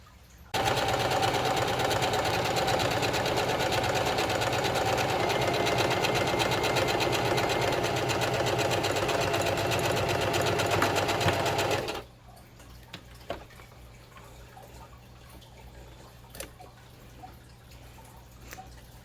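A sewing machine stitches a skirt from handwoven wool fabric, running in one loud, steady whirring burst for about eleven seconds before stopping abruptly, leaving a faint hum and a few small clicks.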